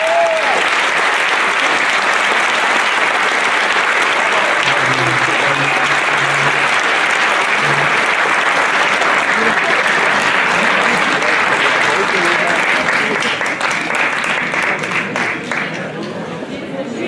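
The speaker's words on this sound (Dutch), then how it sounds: "Maar nog eenmaal een fantastisch applaus." Sustained, loud applause from a theatre audience at a royal honours ceremony in Hardenberg, a dense unbroken wash of clapping that runs for the whole stretch and thins slightly near the end.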